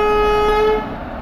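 WAP4 electric locomotive in Train Simulator Classic sounding a loud, steady sustained horn tone that cuts off, leaving a lower rumble of the engine underneath.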